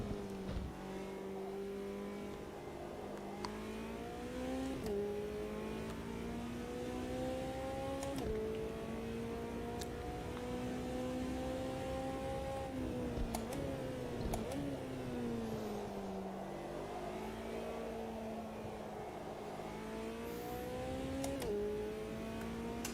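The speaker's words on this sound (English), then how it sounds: "There's just constant understeer scrub sound in the McLaren." A McLaren race car in a racing game runs steadily with a constant engine drone that rises and falls through gear changes, while the tires scrub continuously through understeer in the corners.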